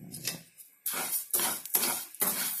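Dry rice being roasted in a pan for sambar powder, a series of distinct scraping, rattling strokes as the grains are stirred against the metal, close and fairly quiet with short pauses between, no talking.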